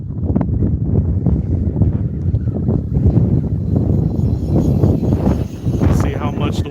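Gusty wind buffets the microphone outdoors while an E-flite UMX A-10 Thunderbolt II RC model plane flies, a rumbling low roar that swells and dips throughout, with faint background voices.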